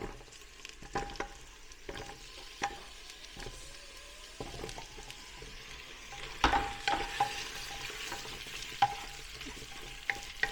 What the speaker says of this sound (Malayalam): ഇതും കൂടെ ചേർത്ത് ഒരു 5 മിനിറ്റ് വഴറ്റണം.